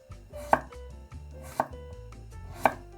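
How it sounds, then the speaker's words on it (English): A knife chops a carrot into thin slices on a board, three sharp, evenly spaced cuts, close and clear against quiet background. "We will chop the carrot into thin slices so they'll cook fast."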